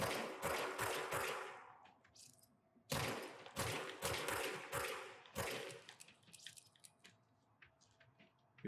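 Weapon gunfire in the video game Control, loud close bursts of rapid shots in clusters separated by short pauses, with quieter effects trailing between volleys.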